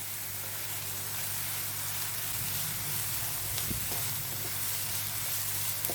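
Onions sizzle and crackle steadily in hot oil, with an occasional stirring scrape and a low background hum.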